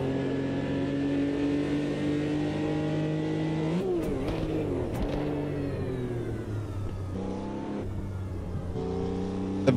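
A Porsche race car engine from Automobilista 2 on the historic 1971 Südschleife drones at steady high revs, then drops sharply on a downshift and climbs again through gear changes, loud and continuous from inside the car.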